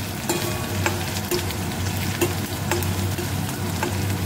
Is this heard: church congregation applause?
no